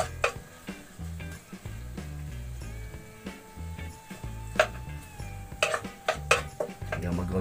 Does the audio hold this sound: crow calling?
no